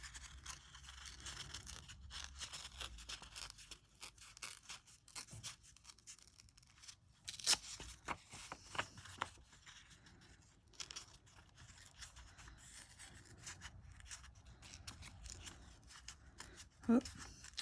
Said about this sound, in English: And then I'm going to rip around the edge of that.